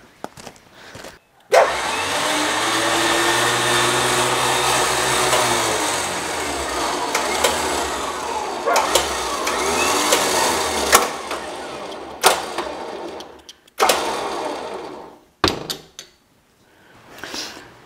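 A truck engine running after a complete rebuild, a steady broadband drone held for about twelve seconds with brief cut-outs and surges near the end, close and fairly loud.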